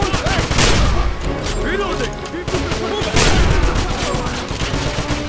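Dense bursts of gunfire and overlapping shots fill a firefight in the Wolfenstein video game, loud and continuous, with a voice talking faintly underneath.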